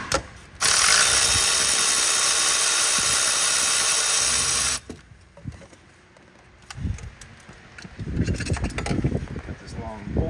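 A power tool whirs steadily for about four seconds while a 13 mm bolt is removed from a Ford 6.7 diesel engine, then stops, followed by quieter clicks and handling noises of the work.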